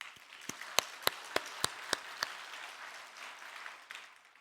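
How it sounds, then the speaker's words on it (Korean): Sparse, faint clapping for a church choir with several sharp individual claps standing out over a low room murmur, distant and thinning out after a couple of seconds. "찬양대를 위해서 뜨거운 박수"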